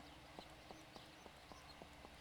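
Horse hooves clip-clopping in a video game, a quiet, evenly spaced series of about seven light clops over a soft ambient bed.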